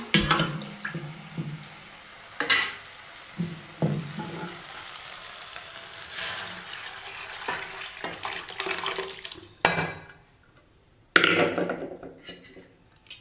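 Toor dal being stirred into sautéed onions in a pan for onion sambar: continuous soft sizzling with scraping spoon strokes, close by, broken by a short pause near the end.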